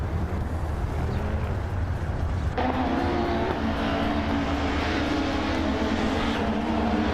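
Engines of a pack of race cars, led by a 1994 Alfa Romeo 155, roaring at the start of a race in a video game, a steady loud drone that rises in pitch partway through as the cars accelerate.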